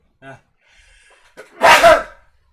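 A single sharp, breathy sneeze bursts out after a brief murmur of voice, loud and close, trailing off quickly.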